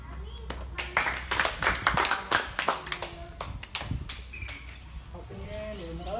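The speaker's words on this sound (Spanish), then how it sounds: "un fuerte aplauso a los compañeros por su nuevo grado" Scattered hand clapping from a martial arts class honoring classmates' new Lima Lama belt grade, a loose burst of claps near the middle with voices around it.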